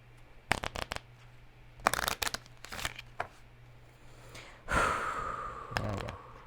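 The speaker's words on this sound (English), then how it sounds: "I need to shuffle." Playing cards being shuffled for the Skulk Hollow board game, in several quick riffling bursts with pauses between them, close up in a quiet room.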